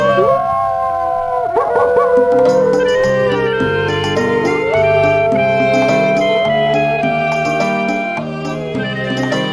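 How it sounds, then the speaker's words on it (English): A wolf howls in the video game Quest for Glory 4, with long, wavering tonal howls rising and falling over layered musical background tones, loud and continuous. "The wolf howls an unintelligible response."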